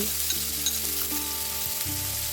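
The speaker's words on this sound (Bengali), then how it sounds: "এখন এর মধ্যে কুচিয়ে নেওয়া পেঁয়াজগুলো দিয়ে দিতে হবে" Chopped onions hiss and sizzle in hot oil with whole cumin seeds, a steady close frying crackle with occasional stirring clicks and a faint hum beneath, no voices.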